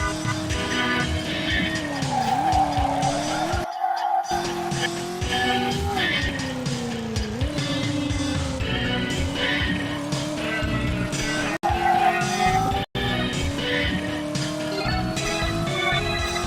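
A car in a two-dimensional, Atari-style retro racing video game whines with a steady electronic engine tone that rises and falls, with repeated tire skids throughout and a couple of brief dropouts near the end.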